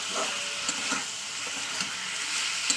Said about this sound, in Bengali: এবার এটা ভালো ভালো করে কষিয়ে নেবো